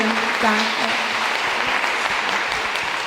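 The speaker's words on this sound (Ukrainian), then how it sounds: "Отож, Ярина Біла, аплодисменти" Audience applause at a forum in Lviv, a dense, even wash of clapping from a crowd that stays steady through the short clip, with a few faint voices mixed in.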